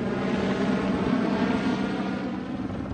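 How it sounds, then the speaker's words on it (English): Helicopters dropping water on a grass and forest fire in a valley give a steady, fairly loud engine and rotor drone that holds without a break throughout. "The helicopters are dropping water on the fire."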